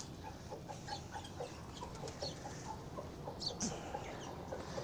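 Chickens and roosters cluck softly in the distance over a steady outdoor background at a mini zoo in Lahore, with scattered bird calls and a brief higher squawk.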